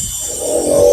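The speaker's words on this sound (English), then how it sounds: "That's my air compressor." A small air compressor runs as a steady, loud, broadband hum that builds slightly over one second, with no voices.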